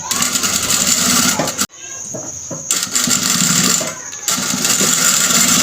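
An electric sewing machine stitches a kapron fabric garment's trim with a loud, steady whirring run. It stops briefly midway, resumes, pauses again and then runs on.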